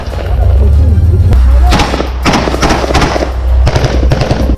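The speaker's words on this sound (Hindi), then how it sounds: "बेपरवाह इन सैनिकों ने खुद भी गोलियां चलाई।" Soldiers firing guns in a close, very loud barrage: rapid machine-gun bursts and heavy thumping shots that run nearly without pause, with short breaks between volleys.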